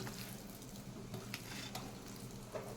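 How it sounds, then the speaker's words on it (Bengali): Spices for dal tempering sizzle in hot oil, a soft, steady crackling hiss with faint clinks and stirring, heard quietly and without speech. "ফোড়ন দিয়ে দিলাম ডালটা।"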